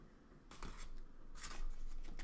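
A knife saws through a homemade hamburger bun, giving a few soft, close rasping strokes in short bursts over a low background hum.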